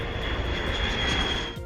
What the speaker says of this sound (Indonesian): suara pesawat,